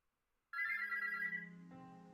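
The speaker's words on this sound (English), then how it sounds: "The morning alarm almost gives you a heart attack." A phone's morning alarm jumps in abruptly after silence with a bright, sustained electronic ringtone tone that shifts pitch partway through, loud and close, alone with no voices.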